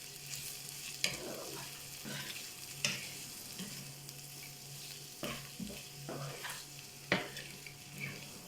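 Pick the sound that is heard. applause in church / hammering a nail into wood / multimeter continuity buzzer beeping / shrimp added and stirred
shrimp added and stirred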